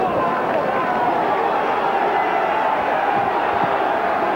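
Home crowd at a Leeds rugby league match against St Helens roars in a steady, dense wash of cheering and babble, loud and continuous with no single voice standing out.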